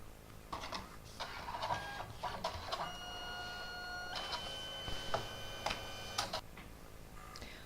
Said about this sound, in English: Alright, so it's finished printing